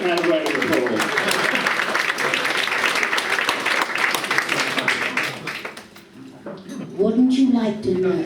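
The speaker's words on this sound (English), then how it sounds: "Give that man a round of applause." A studio audience applauds with dense, sustained clapping that fades briefly before a voice speaks over the tail.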